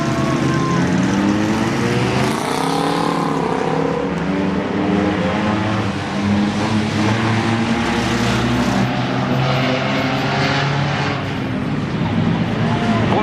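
Race cars, including station wagons, roar back to racing at Langley Speedway during a demolition-style event, engines revving and climbing together in a loud, dense mix, with an announcer talking over them.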